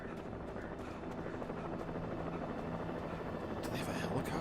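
A helicopter in the Alan Wake video game whirs steadily throughout, a constant rotor drone at a moderate distance, with game effects and a voice talking over it.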